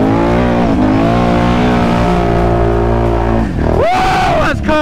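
A Can-Am Renegade ATV engine revs loudly and steadily up close, then surges with a rising whine as it drives into a mud hole, splashing noise cutting in near the end.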